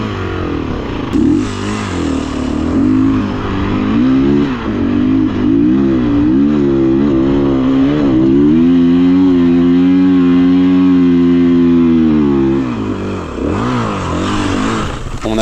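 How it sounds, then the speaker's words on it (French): A scooter fitted with motocross tyres revs hard and continuously, its engine note climbing, holding and dipping in loud, close waves on a volcano off-road track. "Scooter avec des pneus cross, c'est un ouf."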